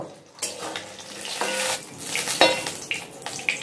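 Raw onion dropped into hot oil while cooking rui posto, a Bengali rohu fish dish with poppy seed paste, giving a rising sizzle and frying hiss with occasional stirring and utensil clinks in a home kitchen.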